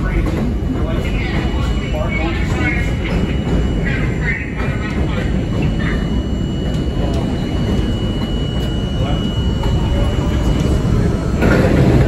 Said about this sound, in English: excursion train coming to you at Rock Walk.